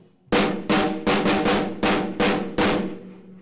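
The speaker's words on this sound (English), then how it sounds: "So the rhythm here on the snare sounds like this." Six sharp snare drum strokes play a notated drum fill rhythm, loud and close, the first hits evenly spaced and the last few slightly more spread, each ringing briefly before the next.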